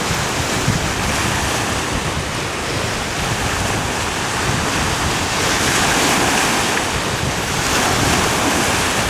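Strong wind in Belize roars and buffets against the microphone continuously, with a broad rushing noise like surf in the background.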